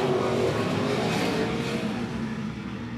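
A field of 305 sprint cars accelerating on a race restart at I-76 Speedway, a continuous roar of engines from a distance that holds steady and then eases slightly near the end.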